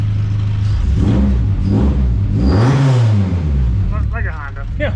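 A Honda EG with a 2.0 engine revs up and falls back in a rising and dropping sweep, loud and close, with a voice talking over parts of it.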